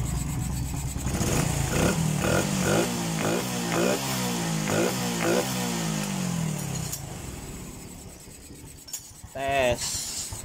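A Honda Supra 125 FI engine with hard-starting trouble and a leaking valve runs unevenly during a test, giving a series of close, pulsing revs that fade into rougher, quieter sputtering with a few clicks near the end.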